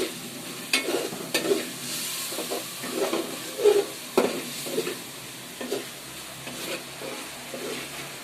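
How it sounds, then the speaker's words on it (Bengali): Spice paste for a fish curry sautés in a pan, hissing and sizzling steadily, with frequent stirring scrapes and taps from a spoon. "মশলা কষানো হচ্ছে।"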